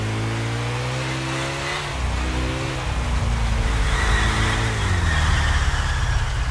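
A car drives in the GTA IV video game, its engine revving up and dropping back through gear changes, with a brief tire squeal, loud and close for several seconds.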